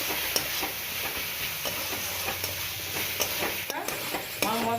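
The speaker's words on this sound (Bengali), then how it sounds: "এবার আমি এগুলো খুব ভালো করে মশলার সাথে মিশিয়ে ভালো করে আবার কিছুক্ষণ ভেজে নেব" Spices with red chilli powder fry in a pan during khichuri cooking, a steady close sizzle broken by repeated scraping stirs of a spoon against the pan.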